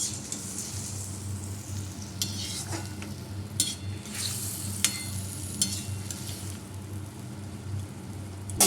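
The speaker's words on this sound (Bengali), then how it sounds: "মশলাটা ভালো করে কষানো হোক।" Spices with turmeric powder, chili powder, ginger paste and salt sautéing in a pan, a continuous close sizzle with repeated scraping and clinking of the stirring spoon, no talking.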